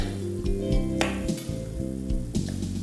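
Salmon and olives sizzle and fry with mussels in a pan for risotto, a steady close crackle broken by a few stirring scrapes.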